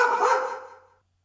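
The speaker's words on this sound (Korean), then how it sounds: "어디선가 짧게 개 짖는 소리가 들려왔다." A single short dog bark rings out from somewhere off, then fades into silence within a second.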